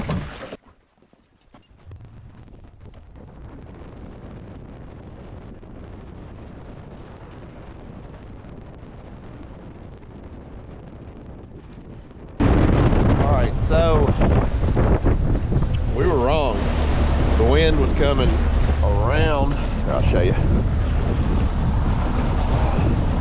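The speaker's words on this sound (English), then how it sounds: "The wind's coming right down this chute." Wind gusting over open water on a boat while fishing for pre-spawn crappie, a steady rushing buffet on the microphone that jumps much louder and rougher about halfway through.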